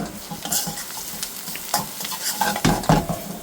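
Oil sizzles in a pan while a balti is fried and stirred, with a constant close crackle and scraping stir strokes, loud and without talk.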